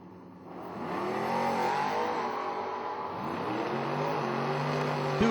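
Drag race cars, a Duster and a Mustang, rev and growl at the starting line, their engine notes rising and falling together at moderate distance with a sharp blip near the end.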